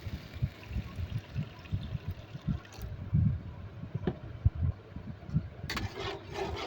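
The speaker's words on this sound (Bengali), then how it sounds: "এবার এখানে পরিমাণ মতো জল দিয়ে দেব" Water pouring into a pan of fried curry masala for an egg poach curry, a close gurgling splash that runs continuously and sits loud over the faint sizzle of the pan.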